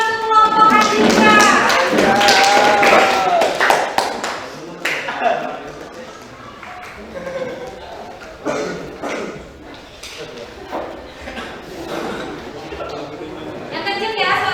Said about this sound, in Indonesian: Kita kasih tepuk tangan untuk kelompok Andika